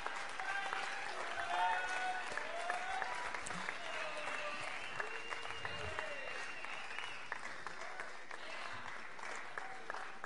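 Sustained applause from an audience welcoming competition teams onto a stage at a FUEL event, steady and fairly even for about ten seconds with faint voices and cheers mixed into the clapping.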